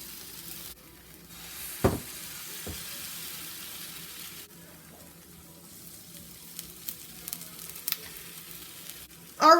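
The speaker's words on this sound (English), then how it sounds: "Hear that sizzle? That's what you want." Soft, steady sizzling of pancake batter on a hot griddle, punctuated by a couple of sharp clanks and a brief scrape near the end.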